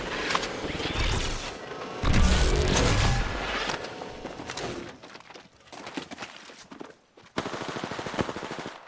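Rapid automatic gunfire rattles in Apex Legends, with loud bursts of machine-gun fire, heavy impacts and brief pauses between volleys, close and dominant over game effects.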